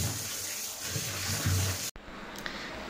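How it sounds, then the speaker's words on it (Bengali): Tap water runs steadily while raw chicken is washed, a close, even rush and splash that cuts off abruptly near the end, leaving a quieter room with a faint clink. "দেখো চিকেনটা আমি ধুয়ে দিচ্ছি"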